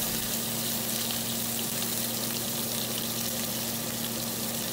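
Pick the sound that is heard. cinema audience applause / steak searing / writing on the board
steak searing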